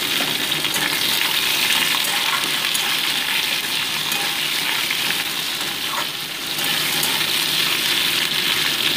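Potatoes, vegetable stalks and ridge gourd fry lightly in oil in a pan, giving a continuous close sizzle with a soft stirring rustle and a brief dip midway.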